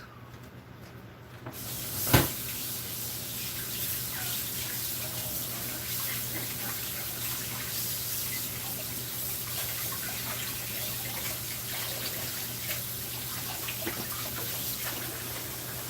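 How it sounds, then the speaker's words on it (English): Water runs steadily from a kitchen tap during handwashing, starting with a brief splash and then a continuous broadband hiss that stays close and constant throughout. "So let me wash my hands."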